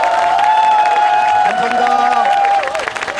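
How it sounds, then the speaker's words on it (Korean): A crowd applauds at a large outdoor political rally in Yeouido, Seoul, the clapping diffuse under a loud amplified voice speaking. "감사의 뜻으로 박수를 한번 올려주십시오."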